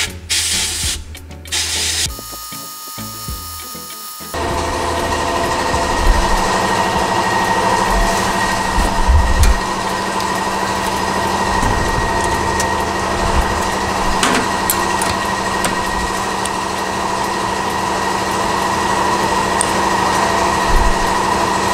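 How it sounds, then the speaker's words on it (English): A sandblaster cleans reused nuts and bolts from a custom rear suspension and brake install: a loud, steady hissing blast runs almost continuously for about seventeen seconds after a few short bursts of mechanical noise. "hit all of the nuts and bolts with a sandblaster"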